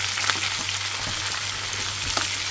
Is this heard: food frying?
yes